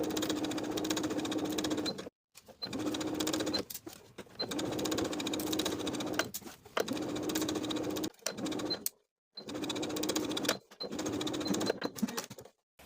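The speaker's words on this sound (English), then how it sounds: "Now I'll sew the bias tape in place from center front all the way around to the opposite center front" A sewing machine stitches bias tape onto a dress bodice in a steady, close mechanical whirr, running in several bursts of about two seconds each with short pauses between them.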